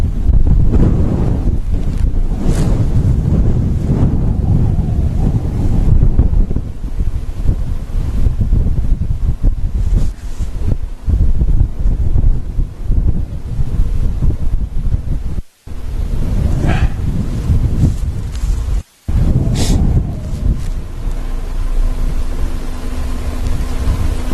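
Strong wind buffets the microphone outdoors on a safari in wild-dog country, a loud continuous roaring rumble with gusts and a couple of abrupt dropouts, no voices.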